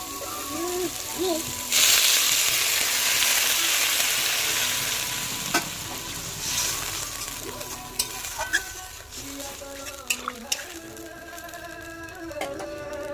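Water poured into fried masala in a hot wok for a vegetarian potato and pointed gourd curry bursts into a loud hiss that slowly fades, followed by scattered clinks and scrapes of stirring, with no voice.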